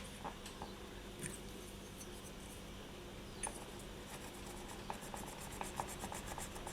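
A drill bit scrapes back and forth inside a hole in polymer clay, making soft, close rasping rubs with small clicks and ticks scattered through a quiet background.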